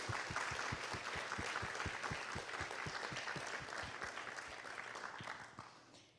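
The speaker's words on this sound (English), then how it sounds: "Can we do one more round of applause for Xander?" Audience applause at a university honors convocation, a sustained round of steady clapping from a crowd that tapers off toward the end, with a few distinct near claps standing out in a regular rhythm.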